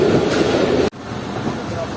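A passenger train rolls into a junction railway station on a meter-gauge line in the Thar Desert, making a loud, close rumble that breaks off abruptly and then settles into a softer steady rolling noise.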